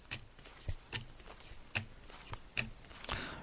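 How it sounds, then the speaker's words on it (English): Tarot cards laid out one by one on a table during a psychic reading, giving a series of crisp slaps and snaps at irregular intervals, close and clear, with no talking over them. "so I'm just laying out the cards now, Jenny."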